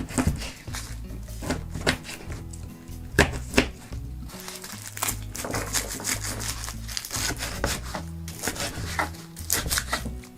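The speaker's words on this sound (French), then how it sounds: "Je le coupe grossièrement." Knife coarsely chopping fresh plant leaves and stems on a cutting board in a kitchen, a run of close, crisp irregular chops and rustles over several seconds, alone without speech.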